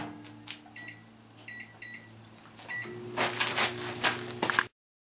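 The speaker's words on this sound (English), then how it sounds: "I'm going to take this and put it in the microwave for 3 minutes." A microwave oven heating silica beads for an air dryer: a low steady hum runs under a series of keypad beeps, then louder clunks and rattles before it cuts off abruptly.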